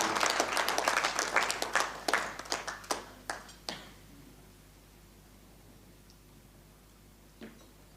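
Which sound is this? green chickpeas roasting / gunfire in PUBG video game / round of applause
round of applause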